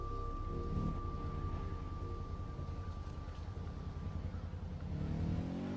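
A car engine in Far Cry 4 hums and revs steadily while driving, with a constant whine layered over a broad, continuous rumble at moderate, even loudness throughout.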